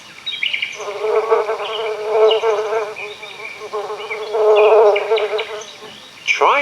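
Bumblebees buzz up close in a meadow in long droning bursts that swell and fade, with brief quiet gaps between them and one sharp rising buzz at the end.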